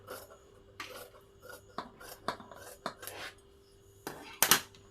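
Scissors cutting blouse fabric, a series of short snipping and rasping strokes with one louder snip near the end, close and quiet with soft background hum.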